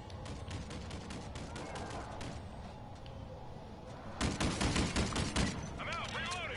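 Rapid gunfire in Call of Duty: Infinite Warfare, a steady run of close shots that swells into a louder burst of heavy fire before it fades, with a voice speaking near the end.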